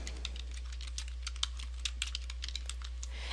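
Rapid typing on a computer keyboard, a steady stream of light clicking keystrokes with a few sharper taps, close and alone over a low background hum.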